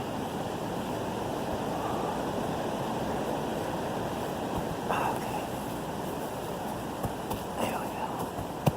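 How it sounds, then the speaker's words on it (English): Strong wind buffeting the microphone outdoors as a constant broad roar, with a few brief knocks and a short spoken remark partway through. "Holy heck, this wind. It's crazy."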